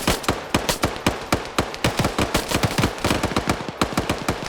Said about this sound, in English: That MG3 immediately suppressing.